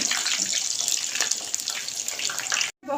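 Aloo palak sharley, potato and spinach snacks, frying in hot oil: a steady close sizzle with scattered crackles that stops abruptly just before the end, with no talking.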